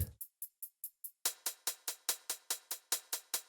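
A Roland 707 drum machine hi-hat plays a steady run of crisp ticks, then a noisy hi-hat layer joins partway through and makes each hit louder and hissier while the rhythm stays even.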